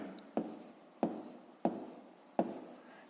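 A pen scratches out a fifth-grade math solution on paper in four quick strokes spaced evenly apart, faint and close, with no voice over it.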